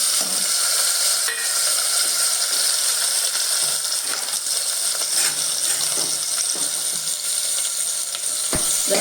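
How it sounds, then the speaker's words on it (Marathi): Chopped tomato hits hot tempering oil with mustard seeds, asafoetida and turmeric for a field-bean usal, giving a loud, steady close-up sizzle with scattered light scrapes and clinks throughout, and no talking. "आणि हे झालं की हा जो टोमॅटो आहे हा फोडणीवरती घालायचा."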